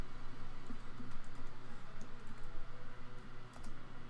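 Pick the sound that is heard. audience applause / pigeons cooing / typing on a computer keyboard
typing on a computer keyboard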